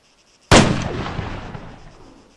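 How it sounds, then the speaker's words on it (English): A single sniper rifle shot in the video game Arma 3: one sharp, loud blast followed by a long rolling echo that fades over about two seconds, with no talk. "So I'm going to zero my gun back down to 300. Shoot again exactly where I was."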